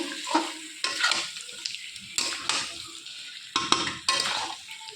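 Mutton is stir-fried in a pan with tomato ketchup and rose water, giving close sizzling and frying hiss broken by repeated scraping stirs of a utensil against the pan, several bursts in quick succession without speech.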